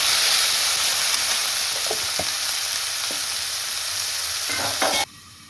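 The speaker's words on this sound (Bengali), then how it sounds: "অল্প একটু লবণটা দিয়ে আমি ভালোভাবে ভেজে নিচ্ছি" Neem leaves frying with salt in a pan give a steady, close sizzle with occasional stirring clicks, cutting off abruptly near the end.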